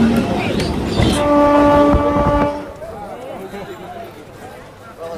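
A Shantipur local train rumbles along with a sustained horn blast and clattering rail noise that fades to a lower rolling drone, while people talk nearby throughout.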